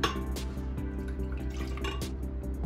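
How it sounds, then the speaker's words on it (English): Four ounces of strawberry daiquiri mix pours into a blender, giving a steady, close liquid splash with faint glassy clinks and no talking. "we have 4 ounces of this strawberry daiquiri mix. We're gonna pour it in the blender now"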